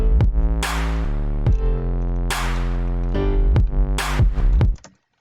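Basic sustained FL Studio synth chords change every second or so, layered over punchy drum hits and a deep bass line, then cut off abruptly near the end.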